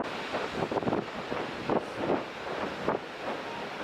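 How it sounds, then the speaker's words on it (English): Gusty wind buffeting the microphone on the Central California coast, a rough, continuous rumble with stronger swells every second or so. "hopefully the sound is okay because it's awfully windy"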